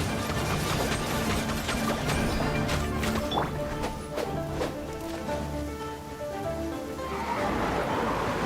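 Heavy rain pours down close by, a dense, steady hiss broken by scattered sharp splashes and crashing hits, with low tonal sounds running underneath.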